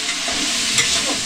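Onions frying in hot oil in a pan in a rainy mountain village kitchen, a steady close sizzle with a soft stirring scrape partway through, no voices.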